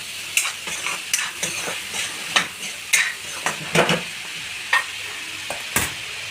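Fried masala mixture with crushed peanuts being stirred in a pan, a spoon scraping in repeated close strokes over a steady sizzle.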